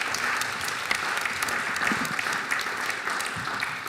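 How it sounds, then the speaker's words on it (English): Conference audience applause closes a panel at a media congress, a steady wash of many hands clapping throughout, moderately loud and fairly even. "Big round of applause."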